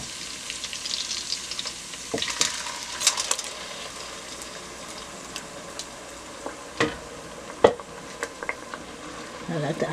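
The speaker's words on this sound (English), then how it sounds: "And let that fry." Blended vegetables and onions fry in a pan over medium heat, a steady soft sizzle broken by scattered clinks and scrapes of a stirring utensil against the pan, close and fairly quiet.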